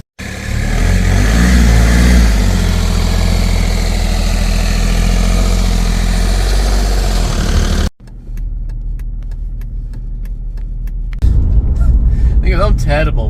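A Skoda Fabia Mk1 1.4 TDI PD80 drives along with a loud, steady diesel engine drone that cuts off abruptly, followed by quieter road noise, ticking sounds and someone talking near the end.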